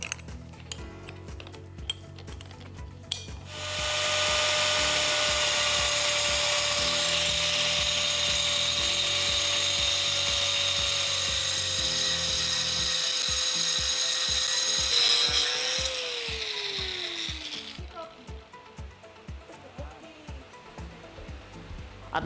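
An angle grinder's disc being tightened with its spindle lock key, brief ratcheting clicks, then a loud sustained motor whine that runs for about fourteen seconds and winds down, followed by light clicking.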